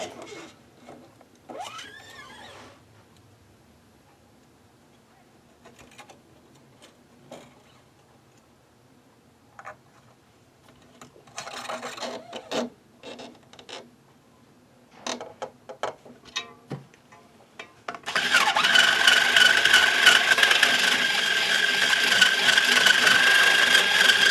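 New strings are hooked into a 1960s Yamaha SA-30 guitar with small scattered clicks, ticks and light metallic rattles close up. A steady, loud broadband hiss takes over for the final seconds.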